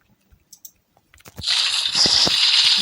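Water gushes in the blocky game Minecraft, a few faint clicks first and then a sudden steady hissing rush of flowing water that carries on loudly to the end.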